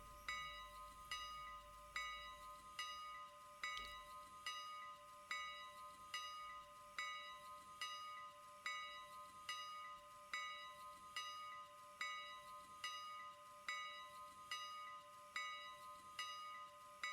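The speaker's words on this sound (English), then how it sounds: "At this point it just decided to start ringing its bell" A small steam locomotive's bell in the railroad game Railroader dings over and over at a steady, even pace, about once a second, with a soft hiss underneath and no talking.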